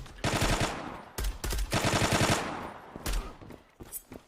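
Automatic gunfire in the online shooter Zula comes in several close, rapid bursts of shots with short gaps between them. Smaller isolated shots trail off at the end, and no voices are heard.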